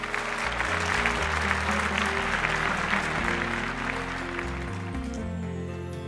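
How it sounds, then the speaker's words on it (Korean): Applause at a Korean fire agency New Year ceremony honoring model public officials, a sustained crowd clapping over a loud, steady background music track. "여러분 큰 박수 부탁드리겠습니다."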